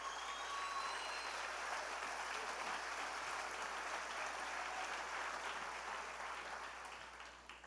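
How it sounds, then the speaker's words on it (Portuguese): A congregation at a celebration worship service applauds in a steady, even wash of clapping, faint and somewhat distant, that fades out over several seconds. "aplaude mesmo a Jesus"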